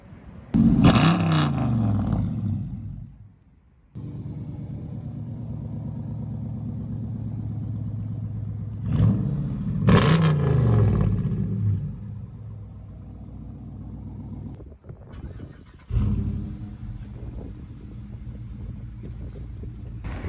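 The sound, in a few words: Dodge Challenger RT V8 car engine revving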